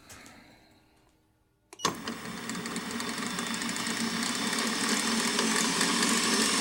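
A machine running at 1800 RPM while fabricating a neck ball cup starts with a sharp jolt, then holds a loud, steady metallic whir. Before it starts there is only faint background noise.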